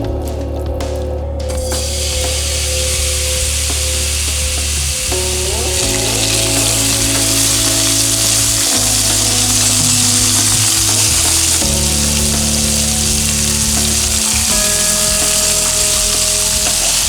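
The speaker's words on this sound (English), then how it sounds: "Season the gyutan with salt and pepper and sauté in a pan." Beef tongue (gyutan) seasoned with salt and pepper sautés in a pan with a steady, loud sizzle throughout, broken by stirring and scraping noises, with no voices.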